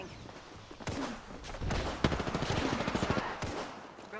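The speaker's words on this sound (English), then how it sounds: "Charging on my shield. Firing." Bursts of Apex Legends gunfire, several rapid volleys of shots with a sharp report near the middle, cracking over a busy game background without speech.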